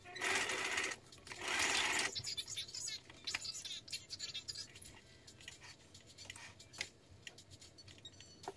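A sewing machine whirs through two close, steady bursts of stitching, then gives way to a scatter of small ticks, clicks and handling noises in a quiet room.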